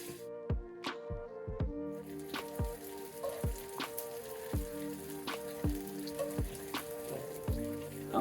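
Homemade tofu bacon strips sizzling and spattering in a hot pan, a steady close crackle with sharp pops and drips repeating every half second or so. It is fairly quiet, with no talking.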